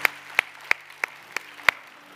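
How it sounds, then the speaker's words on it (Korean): Crisp, evenly spaced hand claps, six sharp slaps about a third of a second apart, in a church youth worship service thanking two people. Fairly close and clear over a quiet room, with no talking. "우리 수고해주신 두 분에게 박수하겠습니다"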